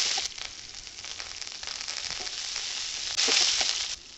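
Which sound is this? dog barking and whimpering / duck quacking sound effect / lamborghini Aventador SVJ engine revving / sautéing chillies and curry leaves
sautéing chillies and curry leaves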